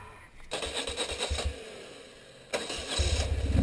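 An off-road motorcycle with an 85-horsepower engine fires up, with a sharp burst of engine noise partway through and then a louder, steady running roar near the end, the whole stretch loud and close.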